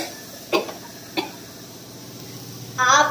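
A couple of short coughs spaced apart, followed by a brief voiced sound near the end, close and fairly clear.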